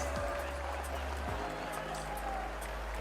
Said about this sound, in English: Give a round of applause for Isipathana and St.